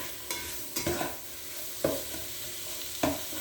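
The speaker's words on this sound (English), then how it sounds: "I'm going to brown this bacon and these onions" Bacon and onions browning in a pan, a low continuous sizzle broken by a few distinct utensil scrapes and taps spaced a second or so apart, nearby and with no voices.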